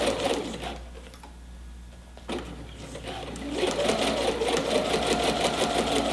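A sewing machine back-stitches a zipper seam on a strap, starting with a short run, pausing, then stitching in a steady, fast, close-up chatter.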